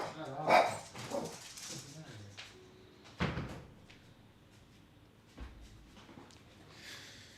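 A dog barks a few times indoors during a live day-trading stream, short sharp bursts spaced apart with a thump like a door or cupboard and a voice in between.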